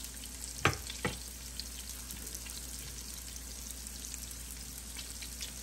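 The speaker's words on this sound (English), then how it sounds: "Just drop them in there and let them cook right along with these potatoes." Low steady sizzle of peppers frying in a pan alongside smashed potatoes, with a couple of sharp pops early on, then a quiet, even crackle that runs on alone.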